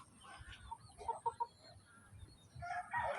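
A rooster crows and chickens cluck in short bursts, fairly close, over a low background murmur of farmyard noise.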